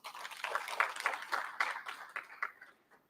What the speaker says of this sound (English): Can you give her a round of clap?